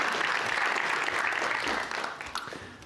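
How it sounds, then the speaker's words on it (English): An audience applauding at an event, a dense sustained wash of many hands clapping that holds steady and then thins out and fades toward the end. "Let's give a big applause"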